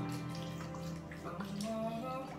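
Water is poured into a blender holding celery, cabbage and almond milk for a smoothie, a steady close pouring and splashing with rising gurgle, over faint background music.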